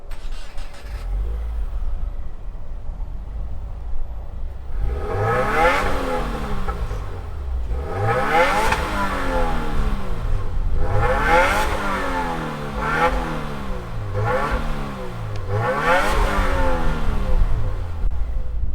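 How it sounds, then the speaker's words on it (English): A 2020 Subaru WRX base engine fires up and revs repeatedly in five rising and falling bursts, each climbing to a peak before dropping back to idle, close and loud with a steady rumble between. "why don't we fire up this WRX and hear what it sounds like"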